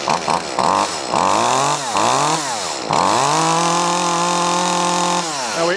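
A small Shindaiwa 251TSN chainsaw revs loudly up close, with several quick blips of the throttle, then a long sustained high-rpm scream, and a final drop back down.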